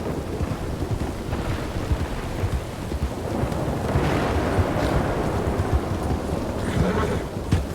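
Stormy weather in the Red Dead Redemption 2 video game, with a constant wash of heavy rain and low rolling thunder rumbling underneath, and the rumble swelling midway through.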